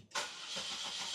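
A Saab 9-3 engine cranks and catches after a brief quiet start, then settles into a steady, close idle that runs on alone.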